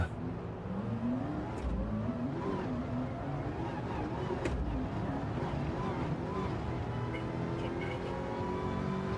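A race car engine revs and whines in a Formula racing video game, the pitch rising and falling continuously as the car struggles for revs, heard steadily throughout.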